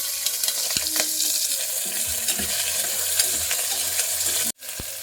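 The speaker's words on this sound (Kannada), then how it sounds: "ಈಗ ಇದಕ್ಕೆ ನಾನು ಫಸ್ಟ್ ಬೆಳ್ಳುಳ್ಳಿ, ಮೆಣಸಿನ್ಕಾಯಿ ಹಾಕೊಂಡ್ಬಿಡ್ತೀನಿ" Garlic and green chillies sizzle in a ghee tempering with a bright, close hiss, while a few utensil taps sound. The sizzle cuts out briefly near the end, then resumes.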